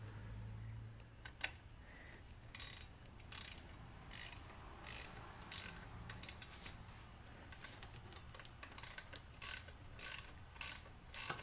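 Ratchet clicking in repeated bursts as 13mm supercharger bolts are undone on a Mini Cooper R53 engine, the sharp mechanical ticks close and fairly loud over a low hum, with no talking.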